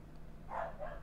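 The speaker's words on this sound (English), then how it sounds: "Dogs are going mental again." Dogs barking in Minecraft on an FTB modded server, a short muffled burst of two or three barks at moderate distance with no talk over them.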